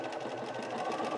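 Bernina 350 sewing machine running a straight stitch, a fast, steady mechanical whir close up with no break across its short span.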